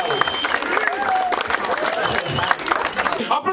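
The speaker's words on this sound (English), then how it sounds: "Applaudissez très fort pour les mariés" Applause for the newlyweds at a wedding, a scattered patter of clapping from the guests mixed with voices and cheering, moderately close and continuous through the short stretch.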